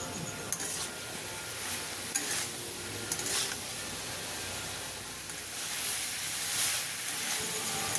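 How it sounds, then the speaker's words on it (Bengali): Salt, turmeric and chili powder being stirred and fried in a pan for a vegetarian ridge gourd and potato poppy-seed dish, a steady close sizzle with intermittent scraping strokes of a spoon, no talking. "সবগুলো নাড়াচাড়া করে ভালো করে কষে নেব"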